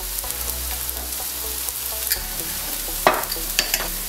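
A spatula stirs spices into a soya chunks biryani mixture in a pan, giving a close, soft sizzle broken by scattered scraping clinks, with no voices.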